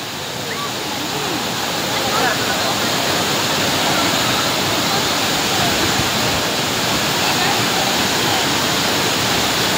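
Mantayupan Falls thunders in a loud, unbroken rush of cascading water, close by and steady for the full ten seconds, a broad hissing roar that swells slightly early on and then holds even.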